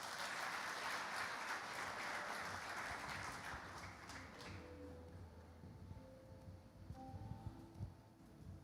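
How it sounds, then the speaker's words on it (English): Audience applause at an evening real estate launch event rises briefly, then fades within about four seconds into quiet room noise with faint scattered sounds, heard at moderate distance and fairly soft. "Let's give him a round of applause."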